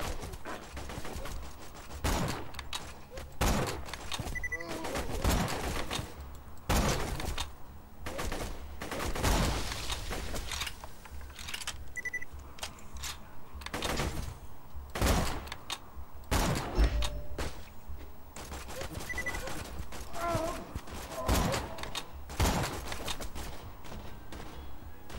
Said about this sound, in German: Das war, glaube ich, ein sauberer Schuss.